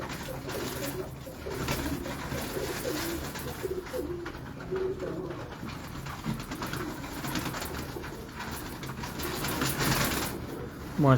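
A pigeon in a fancier's loft in Lahore cooing softly in low repeated calls, faint beneath steady background hum and ambient noise, with occasional voices nearby.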